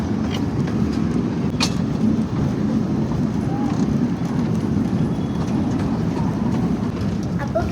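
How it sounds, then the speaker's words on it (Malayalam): A small tourist train rumbles along steadily through a forest setting, a constant low rattling drone with occasional clicks and distant voices. "ഇത് ബോട്ട് ഹൗസിൻ്റെ ഉള്ളിൽ തന്നെയുള്ള ട്രെയിനാണ്"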